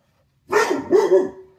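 Dogs barking indoors, close and loud, in a quick burst of two or three sharp barks with no speech over them.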